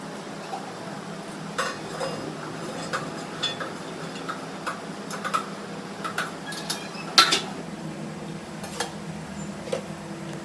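Light clinks and taps of metal dishware as a steel plate is set inside a pot and covered with a metal thali, a few scattered knocks over a steady low hum, with one sharper clatter near the middle.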